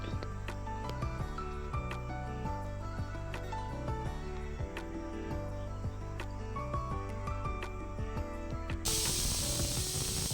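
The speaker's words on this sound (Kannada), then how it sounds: "ಅದಕ್ಕೆ 1-2 ವಿಸಿಲ್ಸ್ ಬರೋವರೆಗೂ ವೇಟ್ ಮಾಡಿ." A pressure cooker cooking millet palak khichdi lets off a loud, sudden hiss of escaping steam in the last couple of seconds. Background music plays throughout and partly covers it.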